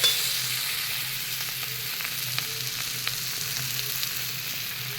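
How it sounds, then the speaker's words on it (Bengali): Spices fry with potato and cauliflower in a pan, a continuous close sizzle with soft, irregular stirring scrapes and ticks, no voices present. "আলু ফুলকপির সঙ্গে মশলাটা খুব ভালো করে কষিয়ে নিয়েছি"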